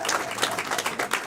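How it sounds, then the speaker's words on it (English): A comedy club audience claps in a brief, brisk burst of overlapping hand claps, fairly close and full. "clap for Jonathan"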